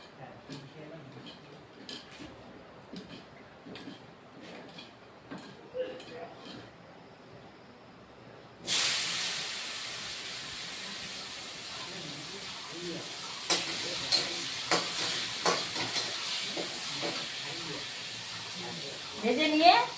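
Salted dried fish, lightly seasoned with salt, sizzles as it fries in a pan, starting with quiet scraping and clinks before a sudden loud hiss of oil that holds steady, with occasional utensil taps and stirring.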